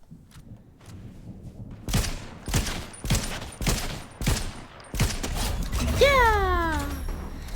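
Gunfire in the Fortnite video game rings out as a run of six sharp, evenly spaced shots over faint background game noise, followed by a rising, whining tone, with a player talking quietly.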